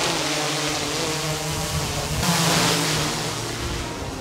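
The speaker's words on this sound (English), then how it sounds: "And here is how the drone sounds when flying it around." A DJI Mavic 3 Classic drone flying around outdoors, a continuous airy rush with a faint underlying motor hum that swells slightly midway as it passes.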